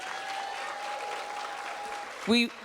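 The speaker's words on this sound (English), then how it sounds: "Can we give him a round of applause," Guest at a fireside chat on therapy is greeted by faint, distant audience applause, a soft wash of clapping that ends with a brief louder sound near the finish.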